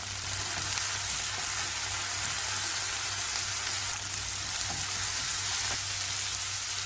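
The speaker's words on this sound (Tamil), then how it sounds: "ரெண்டு நிமிஷம் வதக்கி விடலாம்." Tomato, curry leaves and brinjal sauté in a hot pan, giving a steady, close, even sizzle and fry hiss that runs without a break the whole time, with no voices.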